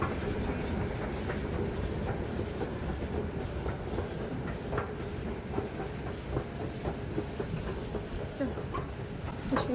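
A Delhi metro train rumbles and clatters nearby, its wheels clicking over the rails in a steady roll with faint hiss, then gradually moving off.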